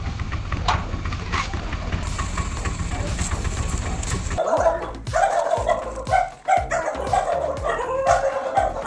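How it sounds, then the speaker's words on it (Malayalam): Dogs barking outdoors on arrival at a house, with a few sharp barks and yips over a running engine hum. The engine cuts out midway, leaving the barking over a quieter outdoor background. "പട്ടികളുടെ സംഘമാണോ?"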